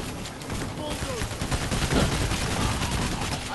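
Rapid gunfire in the heist shooter Payday: The Heist, sustained bursts of weapon fire aimed at a sniper, dense and continuous across the clip with game noise around it.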